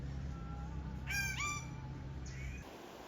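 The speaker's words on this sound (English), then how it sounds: "Sometimes I had a hard time figuring out what bird was making what noise." Rooster crowing in Sayulita, Mexico, one drawn-out call rising and falling over a low steady hum, with a fainter second call near the end.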